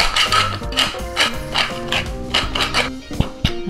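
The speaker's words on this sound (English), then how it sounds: "I'll grind some pepper inside as well." A pepper grinder cranks peppercorns over pickling onions in olive oil and salt, giving a series of close, rhythmic ratcheting crunches repeated about eight times in quick bursts, with no talking.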